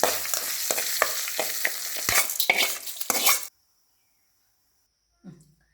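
Green chilli and ginger are stirred through hot oil for coconut rice, a busy sizzle with repeated spatula scrapes for about three seconds before it stops, then silence and a brief soft knock near the end.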